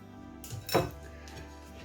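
Half a kilo of bone-in mutton drops into a cooking pot for shorba, a brief close clatter and clink of meat and bone against metal in a quiet kitchen.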